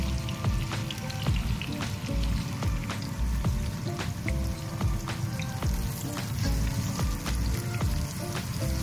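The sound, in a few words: about 1 kg of onions frying slowly in oil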